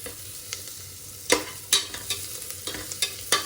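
Chopped onions fry in a pot for bhai-style biryani as a spoon stirs them, producing a quiet sizzle broken by several sharp, close scraping strokes.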